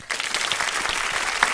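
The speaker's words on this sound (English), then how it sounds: "we have to give you an official People Before Politics round of applause." A studio audience breaks into a brisk round of applause on a political talk show, dense clapping starting sharply and holding steady through the short moment.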